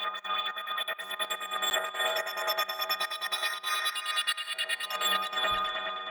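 Retro sound-effect samples chopped into a rhythmic pattern by a step sequencer in a multi-effect plugin: quiet, bright, bleepy tones pulse in a repeating loop for several seconds.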